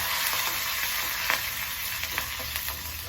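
Cashews and curry leaves frying in hot oil or ghee for ven pongal, giving a steady, close, even sizzle with a few faint stir clicks and no talking.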